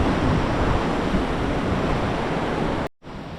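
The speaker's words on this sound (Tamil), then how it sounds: "தண்ணி வந்து அந்த பனிப்பாறை வந்து உருகி வந்துட்டுருக்கு" Clear glacier meltwater stream in Dong Valley, a steady broadband rush of flowing water heard close and loud, continuous until a brief cut near the end, then resuming.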